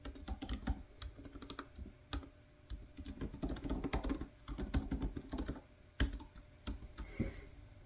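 Computer keyboard clattering under steady typing while writing a novel, close and continuous with quick irregular keystrokes, brief pauses between runs of words, and no talking.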